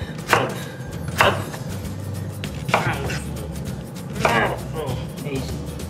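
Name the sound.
chopping butternut squash into small pieces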